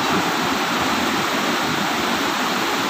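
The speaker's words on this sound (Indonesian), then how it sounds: "Kita bisa menikmatin deburan-deburan ombak" Ocean waves at the beach in Sabang, Aceh, make a dense, loud, continuous wash of surf filling the whole clip, close and unbroken with no voices.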